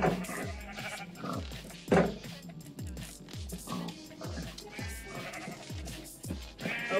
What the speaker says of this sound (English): Oh, we got some baby blue sheep.